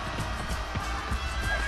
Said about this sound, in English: Let's just hop on this horse